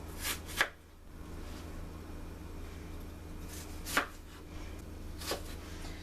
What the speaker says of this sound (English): the right way to cut an onion